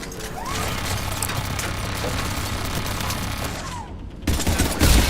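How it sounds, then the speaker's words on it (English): Rapid bursts of gunfire crackle through a Mass Effect 3 firefight, a dense sustained rattle of shots under a mechanical drone, ending with heavier nearby impacts. "I don't know what Edie's shooting at, but she's shooting at something"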